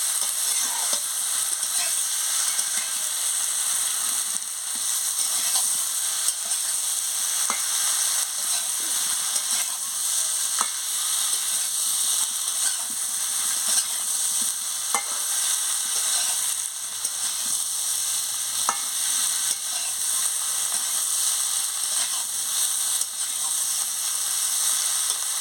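Fish and cauliflower curry with salt sautéing in a pan, a steady close hissing sizzle that runs without break, dotted with faint occasional stirring clicks and no voices.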